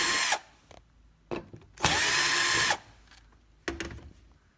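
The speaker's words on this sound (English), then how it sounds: "Let's take out these 4 screws." A power drill removes screws from a gas hob, giving several short bursts of whirring with pauses between, one longer run in the middle, loud and close.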